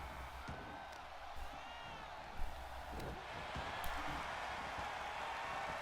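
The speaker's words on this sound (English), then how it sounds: "And Dominic now trying to get support from the crowd" Crowd cheering in the WWE 2K23 video game during a Raw wrestling match, a steady broadband arena roar with a few brief louder swells, continuous throughout.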